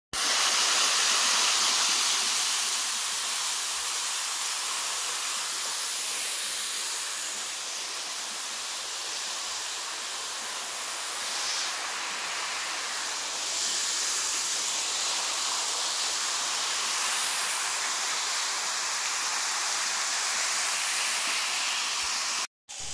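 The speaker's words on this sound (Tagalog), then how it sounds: "pero dito sa may dagat may falls" A waterfall spills down beside the sea on a beach in Quezon, producing a steady, loud hissing rush of falling water that fills the scene without pause and with no talking.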